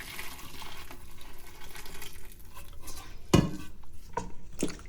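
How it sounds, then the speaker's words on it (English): Hot water is poured over duck meat in a kitchen as a soft, continuous trickling splash. Quiet clinks of dishes and one sharper clatter break in near the end. "Next, we'll pour the hot water over the meat."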